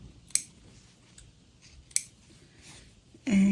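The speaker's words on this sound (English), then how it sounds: "we're just trimming our thread" Scissors snip sewing thread while a quilt block is sewn: two sharp, crisp snips about a second and a half apart, close and distinct against quiet, then a brief louder tonal noise at the end.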